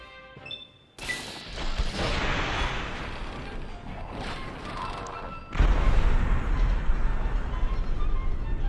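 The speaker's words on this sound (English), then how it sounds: "the Fat Man, which is a mini nuclear bomb catapult" Fat Man mini nuclear bomb catapult firing in Fallout 3, a sudden loud crash at one second and a heavier booming blast around five and a half seconds, followed by sustained rumbling roar and debris noise.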